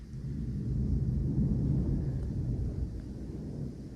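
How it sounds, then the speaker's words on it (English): Far-off thunder from a nighttime storm rolls as one long, deep, steady rumble lasting the whole stretch, with no voices present. "there's going to be thunder right now"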